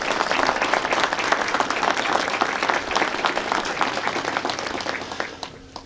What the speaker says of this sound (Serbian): Molimo vas da nagradimo aplauzom.